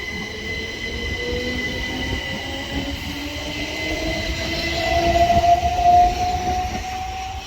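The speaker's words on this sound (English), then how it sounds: "we've got 377-148 departing, going to Victoria." Class 377 electric multiple unit departing a station platform toward Victoria, with a steady motor whine rising in pitch as it accelerates and squealing wheel tones growing louder toward the end, no talking.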